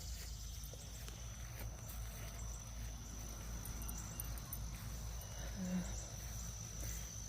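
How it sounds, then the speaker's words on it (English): Insects chirp steadily outdoors at sunset during a nature walk, a faint continuous high buzz over low rumbling background noise throughout. "no shortage of insects either"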